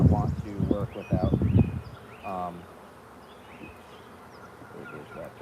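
Frisky, defensive honeybees buzz densely and close by during a hive inspection, a steady insect drone that carries throughout, with a voice speaking over it early on.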